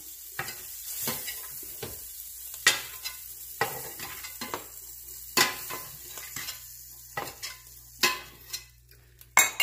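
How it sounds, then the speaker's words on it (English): Shrimp frying in a pan for shrimp fried rice, with a spatula repeatedly scraping and knocking against the pan over a soft sizzle; sharp, irregular clatters close by, no voices. "I'm just gonna let them fry for 5 minutes"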